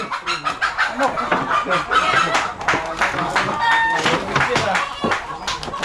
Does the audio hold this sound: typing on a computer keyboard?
no